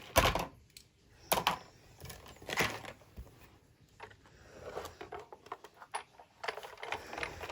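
Cutting plates for a die-cutting machine clack and bounce on a crafting table with cardstock, several sharp knocks and rattling taps at uneven intervals, close and fairly loud, with no speech.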